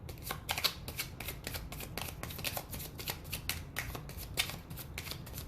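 Tarot cards being shuffled close up, a rapid run of crisp riffling flutters and taps repeating steadily throughout, with no talk over it.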